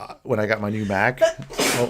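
One person sneezes once near the end, a sharp, loud burst that comes straight after another person talks.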